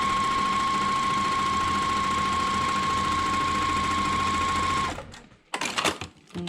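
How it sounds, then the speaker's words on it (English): A sewing machine runs steadily and loudly up close while stitching quilt pieces with a quarter-inch seam, its even whir continuing for several seconds before it stops abruptly, followed by a few soft handling clatters. "And then I'm just gonna sew a bunch together"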